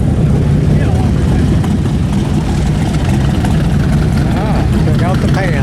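A BMW motorcycle engine idles at a vintage motorcycle gathering, a steady loud low rumble close by with a continuous throbbing drone throughout and no clear talk.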